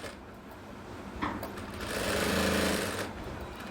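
Sewing machine stitching a skirt hem, a steady close mechanical whir with fast rhythmic needle chatter lasting a few seconds, building and easing off, quiet overall.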